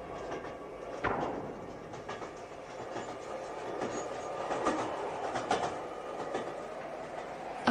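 Moving train heard from inside a carriage, with a steady loud rumble of wheels on rails and rhythmic clacking over track joints, a continuous close roar with no speech.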